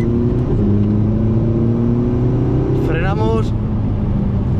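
A Ferrari 458 Italia engine accelerates on a race track, heard from inside as a loud steady drone with rising tones, under a person talking.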